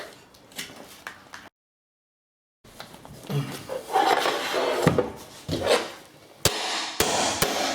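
A laminate floor plank is squeezed and knocked into place during a floor installation: loud, close wooden knocks and scraping bursts with a short silent gap, ending in sharp hammer-like taps.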